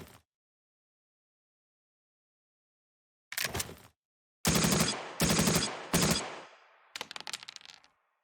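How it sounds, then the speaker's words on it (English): Bursts of machine-gun fire from the Valor & Victory tactical wargame, several loud rattling volleys separated by short silences, ending in a quicker fading clatter. "I think that's all the firing we can do."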